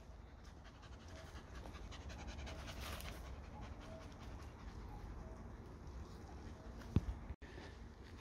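Border collie mix dogs pant steadily and rapidly on an outdoor walk, the quick breathy rhythm close and continuous, with a faint bird call in the background and a brief knock near the end.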